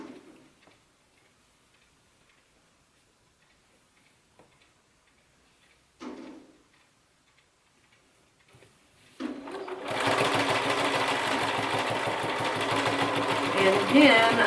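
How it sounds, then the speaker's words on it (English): A sewing machine stitches in the ditch along quilt sashing, beginning after a few faint clicks and handling noises and then running as a steady, fast, close mechanical whir for the final few seconds. "I'm just stitching in the ditch."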